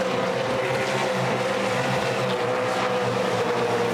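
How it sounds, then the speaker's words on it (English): A tight pack of supercars races over the top of a hill on a circuit, a continuous loud engine roar with sustained high revs and no break across the whole stretch. "Freight train of supercars over the top of the hill."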